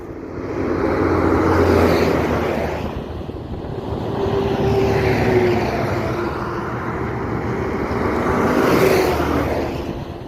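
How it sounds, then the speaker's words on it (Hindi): Road traffic on a highway, vehicles passing in repeated swells as engines and tires approach and recede, loud and continuous with no talking. "ये गाड़ियों की आवाज़ देख रहे हो ना आप"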